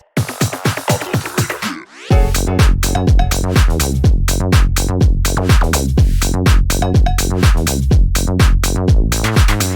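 A filtered build-up of chopped synth stabs rises, then a punchy tech house drop kicks in with a driving four-on-the-floor beat and bass.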